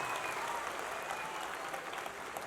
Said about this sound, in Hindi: Sir come and let's take एक जोरदार तालियां अजय सर के लिए।